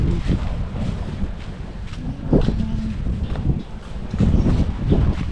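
Steady wind at a seaside beach buffeting the microphone with a rough, gusty roar, loud and continuous throughout, with faint water-like wash underneath.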